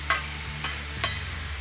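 Bacon, meat, peppers and onions sizzle on a griddle in a short, steady crackle, with a couple of brief sharper pops and a low tonal hum underneath.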